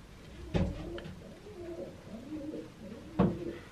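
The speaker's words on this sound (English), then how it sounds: "Really sweet little bird here." Low, soft cooing from a Sharky/Ornate hen pigeon, repeated in gentle rolling phrases with two slightly louder coos, close by and calm with no talking.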